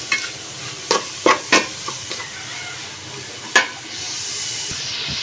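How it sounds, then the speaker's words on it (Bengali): Ginger and garlic sizzling in hot oil with spices in a pan, a steady frying hiss with a few sharp scraping stirs of a utensil, close and loud, the sizzle swelling toward the end. "দেখো, আমি এটা ভেজে নিতেছি।"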